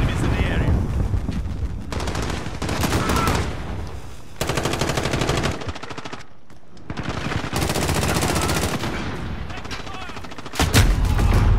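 Sustained bursts of automatic gunfire in a first-person shooter, long rattling volleys broken by short pauses and a reload gap, loud and close, with a voice talking at times.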